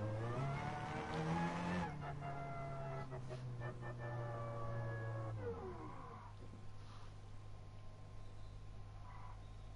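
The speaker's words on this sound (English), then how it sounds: "I always try to do my drifting in first person." A car drifting in Gran Turismo Sport, its engine holding a steady droning pitch before dropping away, with a sustained tire squeal riding on top at moderate loudness.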